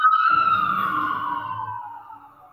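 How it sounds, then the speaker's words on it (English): An emergency vehicle siren wails nearby, its tone gliding steadily downward as it passes and fades over a few seconds, with faint traffic rumble underneath. "hold on, there's some sirens going on."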